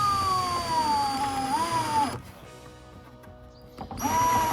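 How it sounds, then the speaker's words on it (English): Cordless power drill driving small screws into wood while building a mini camper, two loud whining bursts with falling pitch separated by a quieter pause of handling noise. "I'm gonna put more screws here all the way"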